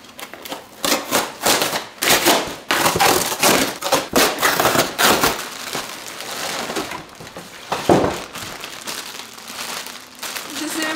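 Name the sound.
unboxing a canvas print ordered from Amazon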